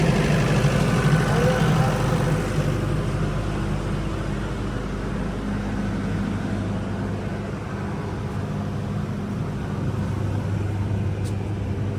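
A generator engine drones steadily and loudly nearby, a constant low rumble that runs the whole time while people talk over it.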